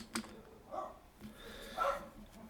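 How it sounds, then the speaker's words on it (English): A dog barks indoors in another room, a few muffled distant woofs spaced irregularly over a quiet background, no talk. "I might have to shut the door if he keeps barking."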